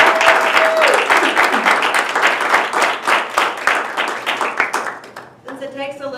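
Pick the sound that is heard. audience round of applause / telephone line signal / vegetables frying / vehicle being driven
audience round of applause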